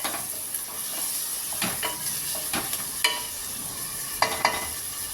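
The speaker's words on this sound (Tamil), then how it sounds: "இப்போ தக்காளி, இது அப்படியே ஒரு 2-3 நிமிஷம் வதக்கிடலாங்க." Tomatoes sauté in a pan of yogurt-spiced chicken thigh roast, a steady sizzle under occasional sharp scrapes and knocks of a spoon stirring against the pan.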